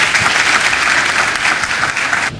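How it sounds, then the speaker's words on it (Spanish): An auditorium audience at a UTESA conference on violence against women applauds loudly as a speaker is welcomed. The close, full clapping is continuous throughout and cuts off abruptly at the end. "Arsenio Ureña, a la distinguida Juana Núñez, con un fuerte aplauso."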